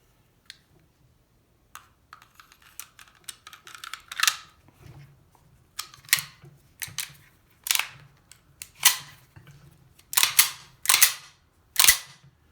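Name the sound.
Walther P38 pistol barrel and slide being reassembled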